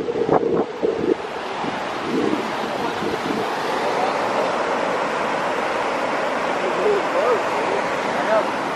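Ocean surf rolls and washes steadily onto a beach, a broad continuous rush with wind buffeting the microphone, a few brief voices early on.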